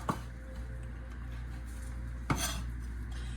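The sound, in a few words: knife slicing sausages in half in a pan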